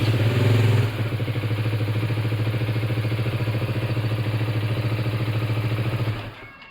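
A Motobi Pesaro 200 Evo motorcycle starts with a brief louder burst, then settles into a steady, close, throbbing idle with a rapid, even pulse, until the engine is cut near the end.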